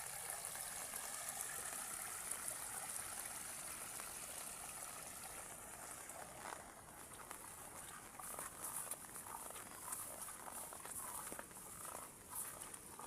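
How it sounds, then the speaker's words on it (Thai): Water runs continuously under a soft patter of falling rain, faint and steady throughout. "เสียงน้ำไหลเสียงฝนตก"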